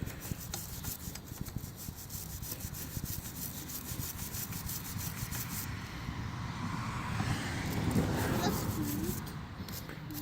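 Steady rasping scrape of a blade working old gasket material off the seating face of a Kawasaki KE100 motorcycle cylinder head, close and continuous over a workshop background.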